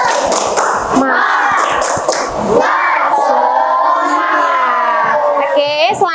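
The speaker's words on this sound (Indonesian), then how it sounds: "Oke, sebelum itu kita tepuk semangat dulu ya." Students in a classroom perform the 'tepuk semangat' clapping chant, a few sharp rhythmic group claps followed by a loud, sustained shouted chant from many young voices in unison.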